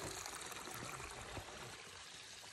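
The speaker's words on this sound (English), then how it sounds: "Stream crossing." A stream at a trail crossing on the Pacific Crest Trail gives a faint, steady trickle and wash of water, heard alone without voices.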